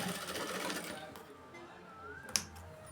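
A sewing machine runs a continuous stitching burst while sewing a blouse seam, fairly close, with a soft mechanical whir that eases off midway and a sharp click near the end; a voice murmurs faintly underneath.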